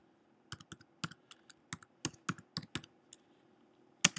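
Keys clatter on a computer keyboard while a MySQL command is entered, a quick irregular run of crisp close clicks followed by a louder final tap, likely the enter key.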